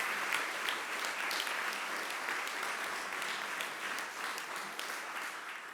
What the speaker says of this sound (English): Can I ask for a round of applause for these people?